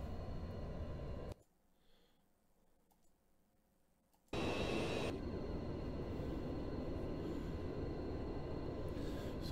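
Boeing 707 jet engines in a flight simulator game, a steady broadband roar that drops away to near silence for about three seconds, then returns at full, constant level.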